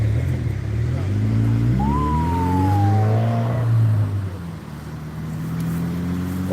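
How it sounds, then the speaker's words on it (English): An ambulance siren's wail sweeps down once over a low, rumbling engine and traffic noise at a DUI checkpoint, moderately close. "here comes the ambulance. Here it comes."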